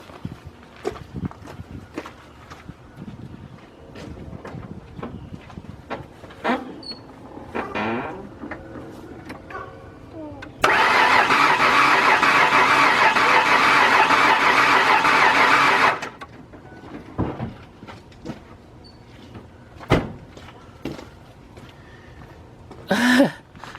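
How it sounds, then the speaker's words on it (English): A 2001 Ford Ranger Edge that won't start and may have a blown head gasket cranks for about five seconds during a compression test, a loud steady whir set between quiet shop clicks and footsteps. "Now I'm going to crank it, and we'll see what we got on the cylinder."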